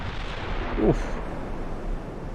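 Heavy battleship turret guns firing in the naval strategy game Ultimate Admiral Dreadnoughts, a 1930s French fleet in rough weather, one deep booming salvo rumbling over constant low sea and wind noise.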